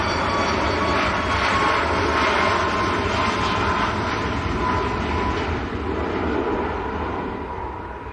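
A Ryanair plane bound for Krakow at Manchester Airport gives a sustained, broad engine roar that holds steady and then slowly fades, heard from a distance outdoors with no talking.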